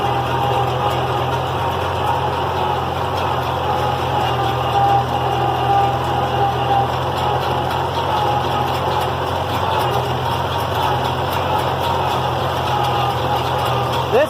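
A Cockshutt 40 tractor fitted with a GMC 305 V-6 drives slowly through a junkyard, its engine running in a loud, steady drone close by throughout with no speech.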